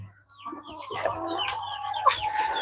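A mother hen clucks near the microphone in a series of short, throaty calls that build into a louder squawking burst, close and clear over a low steady background hum.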